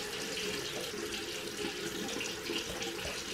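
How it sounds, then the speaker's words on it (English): Tap water runs steadily from a faucet while hair is wet with a brush, a continuous close splashing hiss with no talking. "So I'm just going to wet my brush and just run the water through my hair"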